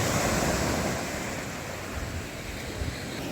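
Sea waves wash steadily against the harbour at Tazones in Asturias, a broad, continuous surf hiss with wind blowing across the microphone and no voices.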